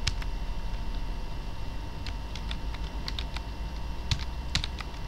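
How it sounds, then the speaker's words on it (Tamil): Computer keyboard typing while entering unit figures into an Excel spreadsheet, a quick, uneven patter of close key clicks over a steady low hum, with no talking. "இந்த மாதிரி டைப் பண்ணிவிடுங்க, என்னென்ன வேணுமோ யூனிட் எல்லாத்தையும் நீ டைப் பண்ணிவிட்டு"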